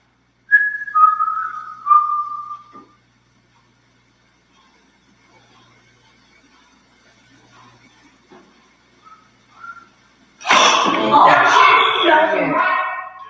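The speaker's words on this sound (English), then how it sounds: "I'm gonna whistle a tune, and I want you to finish it if you can." A person whistles a short tune, with a few clear melodic notes up close, then a pause with faint sounds before people burst into loud talking and laughter.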